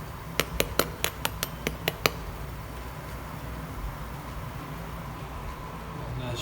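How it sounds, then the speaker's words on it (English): A metal fork taps and scrapes across a reheated, slightly blackened pizza slice in about nine quick, sharp clicks in a row, close and fairly faint, followed by quiet room noise. "The Chef John fork scrape"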